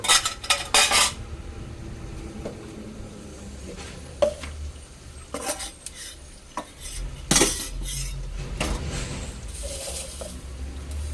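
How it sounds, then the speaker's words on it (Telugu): A spoon serving chicken fry into a dish, with sharp clanks of metal on the plate and pot, scraping and soft wet scoops between them, close and moderately loud, with no talking. "ఇందులో అయితే చికెన్ ఫ్రై వేస్తాను"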